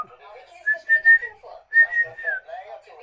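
A person whistles a short melodic tune nearby, a few sustained clear notes with brief breaks, fairly loud and alone without talk.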